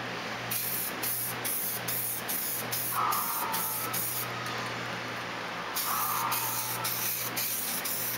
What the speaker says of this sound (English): apply a light coat of this on all these parts